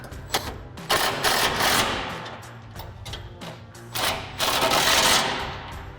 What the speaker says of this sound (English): I'm going to take an 18 millimeter wrench and an 18 millimeter on my 3/8 electric gun here.